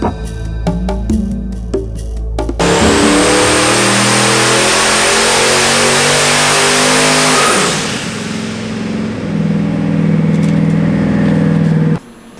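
Twin-turbo Nelson Racing Engines V8 on a dyno, running around 28 pounds of boost: a loud, close engine revs through a sustained high-rpm pull with a rising whine, then drops back to idle and cuts off abruptly.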